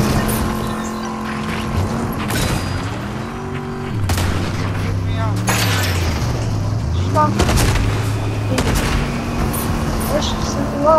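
Pistol fire in a video game, sharp shots popping over engine-like whirring and game noise, loud and close.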